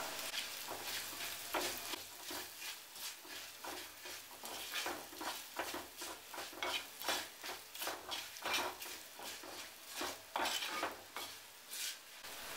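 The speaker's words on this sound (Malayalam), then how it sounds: "ഇനി ആവശ്യത്തിനുള്ള ഉപ്പ് ചേർക്കാം നന്നായിട്ട് ഇളക്കാം" A utensil scrapes and stirs repeatedly in a pan of Kerala-style mango pickle over a steady sizzle, with rhythmic metallic strokes continuing throughout and no talking.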